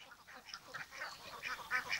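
Ducks raised on a river quacking in a steady, busy chorus, faint and somewhat distant, with overlapping calls throughout.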